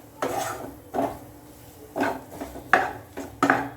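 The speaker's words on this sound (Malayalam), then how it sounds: "ഉരുളക്കിഴങ്ങിട്ട് എല്ലാം കൂടി നല്ലതുപോലെ മിക്സ് ചെയ്ത് കൊടുക്കാം" Mashed potatoes being mixed by hand in a bowl for a sandwich filling, heard as several separate scraping, rubbing strokes of a utensil against the bowl, fairly close and otherwise quiet with no talking.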